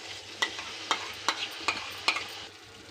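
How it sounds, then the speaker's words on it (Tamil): Masala mixed with blended yogurt sautés in oil for chicken fried biryani, a soft steady frying hiss with about five sharp spoon scrapes against the pan at regular intervals, fairly close and moderately quiet. "அதையும் இது கூட சேர்த்திட்டு எண்ணெய்லாம் நல்லா பிரிஞ்சு வர அளவுக்கு நல்லா வதக்கிக்கலாம்."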